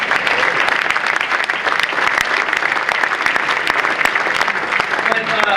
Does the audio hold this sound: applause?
yes